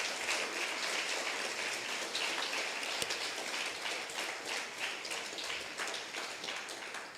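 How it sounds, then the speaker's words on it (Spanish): A church congregation applauding during a sermon, a continuous, fairly soft patter of many hands clapping at a distance, steady throughout without speech. "Denle un aplauso al Señor, amados hermanos."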